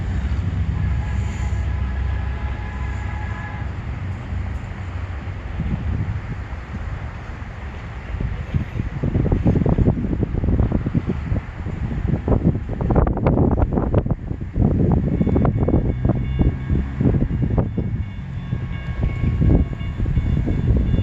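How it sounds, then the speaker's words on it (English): A CN southbound freight train approaches and passes in Richmond, Michigan, a low rumble building into loud, rhythmic rolling and clanking as cars go by, mixed with gusty wind buffeting the microphone. "CN southbound train, Richmond,"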